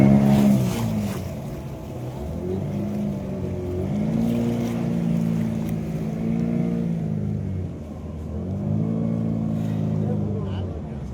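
A motorboat in Goa runs with a steady, droning engine hum that rises and falls in pitch as the throttle changes, heard close and continuous with faint wind and water noise.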